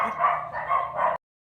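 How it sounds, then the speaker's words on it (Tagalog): A large Belgian shepherd dog barks three times in quick succession, close and loud, with no voices over it. "Grabe guys, ang laking aso, ang ganda ka ng Belgian, no?"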